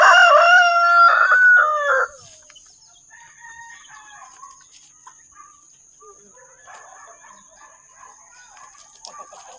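A rooster crows loudly and close for about two seconds, followed by scattered soft clucking from chickens, including black native hens and Rhode Island birds, in a quiet yard with no talking.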